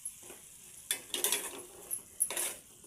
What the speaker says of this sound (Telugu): అన్నీ వేసి మంచిగా కలుపుకోవాలి